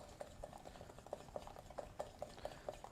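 A spoon stirs chocolate mug cake batter in a mug, producing a quiet, regular series of light clinks and scrapes about every quarter second, close and faint.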